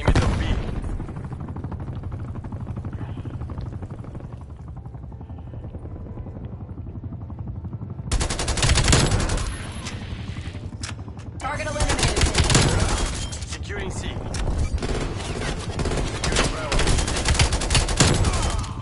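Bursts of automatic gunfire and explosions in a Call of Duty Black Ops Cold War multiplayer match, loud and dense, starting after a quieter stretch of engine drone and rattling repeatedly through the rest of the scene.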